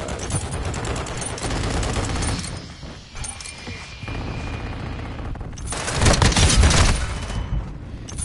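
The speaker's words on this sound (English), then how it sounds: "Hostile war strike in the area." A video-game war strike unleashes loud gunfire and explosions: rapid volleys and booming blasts rattle continuously, ease briefly in the middle, then swell into a heavier barrage near the end.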